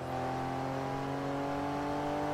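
Porsche race car in Forza Motorsport 3, its engine holding a steady, high-pitched droning rev with strong harmonic tones, loud and continuous with no voices over it.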